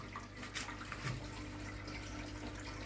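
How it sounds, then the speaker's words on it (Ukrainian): Water is poured from a faucet-like stream into a container while topping up drinking water for hens, giving a steady, fairly quiet splashing rush that continues alone throughout. "Ладно, долімо води."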